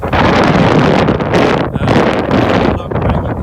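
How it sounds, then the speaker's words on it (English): Strong wind buffets the microphone outdoors in loud, roaring gusts, continuous and rumbling with brief dips between blasts. "it's super windy."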